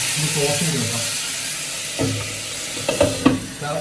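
Tomatoes drop into a hot frying pan and sizzle, with a soft steady hiss broken by a few scraping stirs and clatters near the end.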